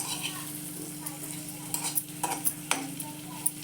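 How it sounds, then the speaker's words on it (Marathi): Spinach for palak paneer lightly frying in a pan, a soft steady sizzle with occasional stirring scrapes and clinks, fairly quiet and close, with no talking. "थोडंसं हलकं हलकं फ्राय करून घेते"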